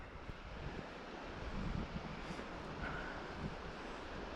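A river rushing below a hiking trail on the Quilotoa Loop in Ecuador, a steady broadband wash of flowing water, heard from a distance with some wind noise and no talk.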